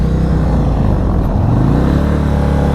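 A Stage 2 tuned 2022 Indian Chief Dark Horse motorcycle engine runs loud and close, a deep throbbing rumble holding steady without pause.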